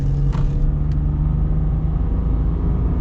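A 2022 Mitsubishi Mirage ES engine pulling at partial throttle, heard from inside as a steady, loud low drone and road rumble with no clear rise in revs.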